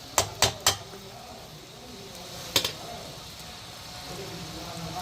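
Cooked rice being stirred into chicken egg fried rice in a pan, with three quick clanking scrapes of a utensil against the pan at the start and another pair partway through over low kitchen background noise.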